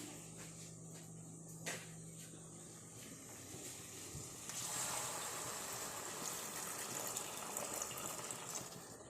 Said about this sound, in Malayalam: നമുക്ക് ഇച്ചിരി തിളച്ച വെള്ളം ഒഴിക്കാം